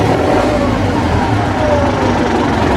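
A loud diesel engine of an International 574 tractor, just started with cleaned injectors, rumbles steadily close by, a heavy low chugging with no talking over it.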